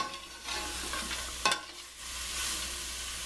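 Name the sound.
stirring chicken and vegetables cooking in a pan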